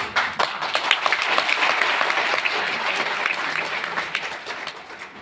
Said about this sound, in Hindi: तो सर के लिए एक बार जोरदार तालियां होनी चाहिए